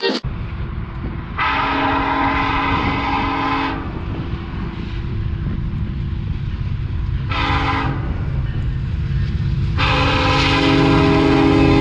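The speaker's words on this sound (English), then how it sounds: "actually captured the windmill train here too" A freight train carrying wind turbine parts rumbles past loudly while its horn blasts several times, long and short, over a continuous heavy rolling roar.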